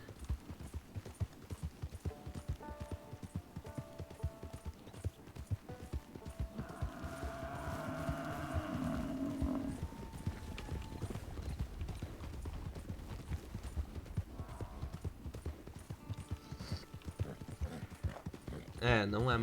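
Horse hooves clip-clopping at a steady galloping rhythm in Red Dead Online, close and continuous for the whole stretch, with someone talking over them and a brief whinny partway through.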